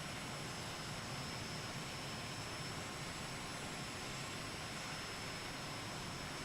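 Jet aircraft engines rumble steadily while taxiing in a flight simulator, a continuous broadband roar with a thin high whine on top, loud and unbroken throughout.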